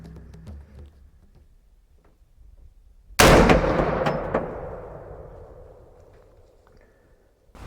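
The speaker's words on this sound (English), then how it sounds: "Great shot right through the heart as well as the shoulder." A .450 Bushmaster rifle fires a single shot at a doe outdoors, one sudden loud crack that booms and rolls away in a long fading echo over several seconds.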